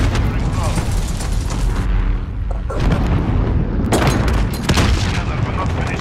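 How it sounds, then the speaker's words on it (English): A grenade explosion in Call of Duty: Modern Warfare booms loud and broad over constant battlefield din, with heavy rumbling blasts and gunfire crowding the mix throughout. "Grenade out!"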